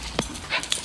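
A dog at a house in Memphis gives a few brief, quiet yips and whimpering sounds, with short bursts spaced across a moment and no talking.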